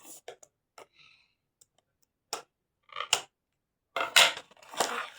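Scissors cut open a dinosaur toy box in a series of sharp snips and clicks, scattered quiet taps at first, then louder crunching cuts through the cardboard near the end.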